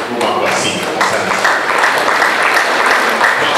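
Loud sustained applause from a crowd of mourners at a funeral gathering in Tanzania, a dense continuous patter of many hands close by.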